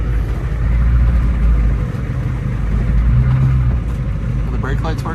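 A cheap diesel truck engine runs steadily with a loud, low rumble while the truck backs up, the drone continuous and near, with someone speaking briefly near the end.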